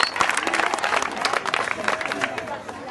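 An audience applauds a doctor, Manuel de Jesús Valdenebro, as he is introduced, with dense, steady clapping that has cheers and voices mixed in throughout.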